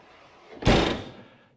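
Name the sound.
Convotherm maxx combi oven door slammed shut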